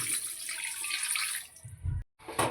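Water pours into a pot of fish curry with potatoes, a steady close splashing rush for about a second and a half, then a brief low burble and short cut.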